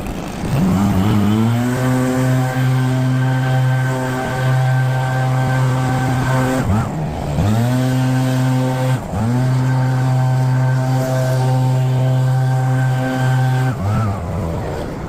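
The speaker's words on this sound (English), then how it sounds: "First you've got to blow all the leaves out" A petrol leaf blower clears garden leaves with a loud, steady two-stroke engine drone that briefly dips twice before surging back to full power.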